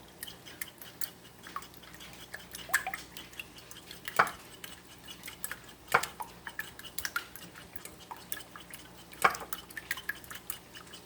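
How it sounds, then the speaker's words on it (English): Eggs are whisked in a bowl without milk, giving close, quick, irregular clinks and scrapes of utensil against the bowl with a few louder taps, and no talking. "Just mix them up really good, scramble them all up."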